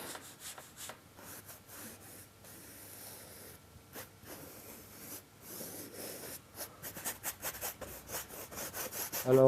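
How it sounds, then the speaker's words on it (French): A painting knife spreads black acrylic mortar paste over a surface in close, soft scraping and rubbing strokes that speed into quicker repeated swipes toward the end. "avec mon couteau à peindre, je vais appliquer le mortier sur la zone que j'ai définie"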